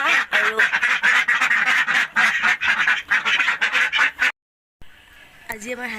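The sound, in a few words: ducks quacking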